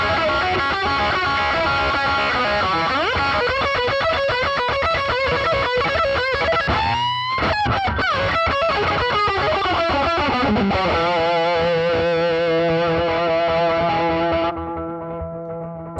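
Electric guitar, a Gibson SG, played through an effects pedalboard with heavy distortion, chorus and echo, sustained chords and notes ringing loud and continuous with a brief pitch sweep midway, alone without talk.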